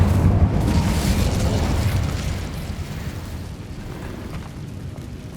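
Incendio fire spell cast in Hogwarts Legacy, a loud close roaring fiery blast that slowly decays into a rumbling crackle over several seconds, with no talking.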